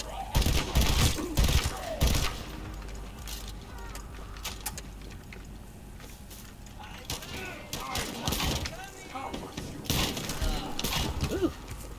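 Shotgun blasts in the shooter game The First Descendant: heavy booming shots cluster at the start, the field goes quieter, then another volley of loud, thumping blasts arrives near the end.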